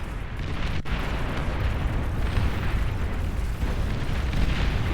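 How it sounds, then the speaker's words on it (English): A Juno missile fires and detonates in the strategy game Beyond All Reason, giving a sustained, rumbling explosive roar with a sharp crack near the start, loud and dense. "And another Juno shot here."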